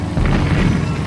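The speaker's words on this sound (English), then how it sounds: "I'm taking fire. Too much flak." Flak bursts in a World War II flight game over the Battle of Midway fill a short stretch with a continuous low rumbling boom, dense and loud, with no voices.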